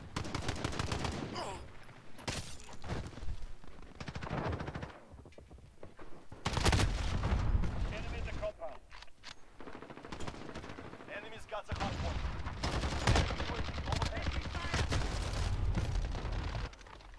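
Gunfire from Call of Duty: Modern Warfare rattles in dense automatic bursts with heavy booms, fairly loud and nearly continuous, while game voices and a player talk over it.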